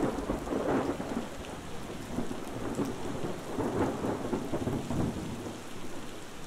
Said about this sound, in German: Es blitzte und donnerte.